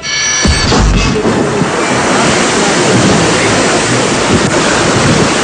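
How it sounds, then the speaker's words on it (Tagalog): Strong typhoon waves from Super Typhoon Haiyan pound a pier in Vera, Catanduanes, a continuous loud roar of surf and wind gusts with heavy crashing throughout. "malalakas na alon na humampas sa pier ng Vera, Catanduanes"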